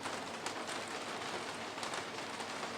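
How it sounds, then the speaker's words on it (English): Heavy rain pouring down outdoors in the French countryside, a steady dense hiss of drops hitting surfaces, constant and enveloping with no voices. "So it's chucking it down with rain at the moment"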